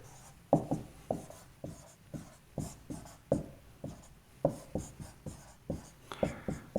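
Writing on a board during a physics lecture, a steady run of sharp, close taps and strokes repeating about twice a second, alone with no speech.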